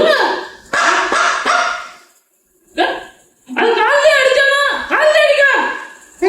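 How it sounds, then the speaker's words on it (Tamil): A dog barks in a Tamil puppet show, sharp bursts and yelping barks in quick runs with pauses, loud and close, mixed with voices. "விடுதா அந்த நாயை ஏண்டா கஷ்டப்படுத்துறீங்க?"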